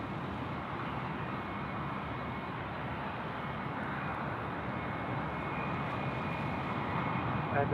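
A jet airliner's engines roar steadily at Sydney Airport during takeoff, a broad sustained rumble that swells slightly toward the end, heard from a distance.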